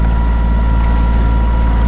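A sailboat motors under engine with only the mainsail up, giving a loud, steady, unbroken engine drone mixed with wind rush.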